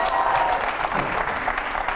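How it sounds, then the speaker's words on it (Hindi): A studio audience bursts into loud, dense applause during a televised interview show, a brief continuous wash of clapping from a large crowd. "बहुत बढ़िया, जोरदार तालियां।"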